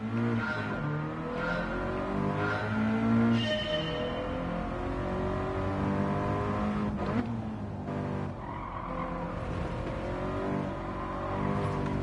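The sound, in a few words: car engine while driving a lap in video game Gran Turismo 7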